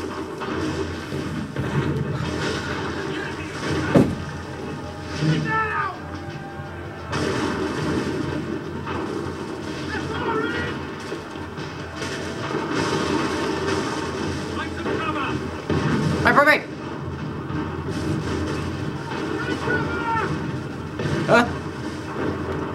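Gunfire in Assassin's Creed 3, with scattered shots and bursts sounding through a busy battle mix of rumbling noise, someone talking over much of it.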